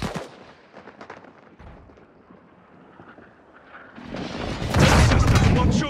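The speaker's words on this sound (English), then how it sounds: "Gas is friendly airstrike in the AO." Friendly airstrike explosions rumble through a Call of Duty Warzone 2.0 match, with gunfire early on and a loud, sustained blast building toward the end under game voice lines.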